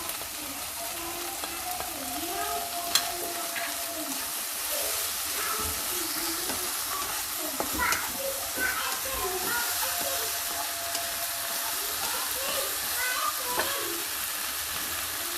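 Chinese cabbage (sawi putih) stir-fried in a pan with sugar, mushroom stock and beef stock, a steady close sizzle with soft scraping stirs running throughout, no voices.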